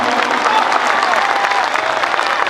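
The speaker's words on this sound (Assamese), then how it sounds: "আপোনালোকে স্পষ্টভাৱে এটা জোৰে হাত চাপৰি দি জনাই দিয়ক যে আমি নামানো" A dense, steady burst of clapping from a large crowd at a protest gathering of bell-metal artisans in Sarthebari, loud and sustained from start to finish.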